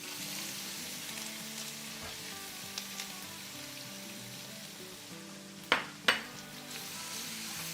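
Crushed ginger, garlic and green chilies hit hot oil in a preheated pan, a loud continuous sizzle with light stirring, then two sharp metallic clanks near the end, with no one speaking.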